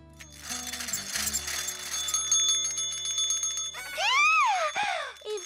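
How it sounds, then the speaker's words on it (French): A new doorbell in a cartoon rings bright tinkling bell tones over layered chiming, then plays a sweeping warbling melodic flourish. It is loud, close and heard alone without speech. "Vous avez vu ma nouvelle sonnette?"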